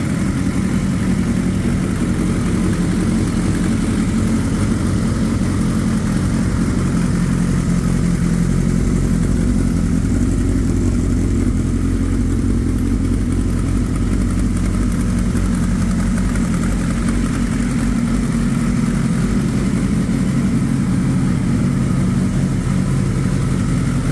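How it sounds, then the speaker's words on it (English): A Suzuki GSXR 1100 motorcycle engine idles loud and close, a steady, continuous rumble that lasts the whole stretch with no talking. "But with the clutch in, it makes wonderful noise."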